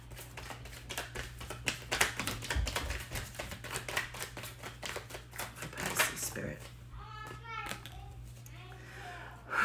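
Tarot cards are shuffled and drawn in a rapid run of crisp riffling slaps and flicks, close, followed by softer handling, under a speaking voice.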